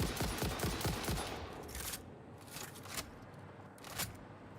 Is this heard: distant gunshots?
yes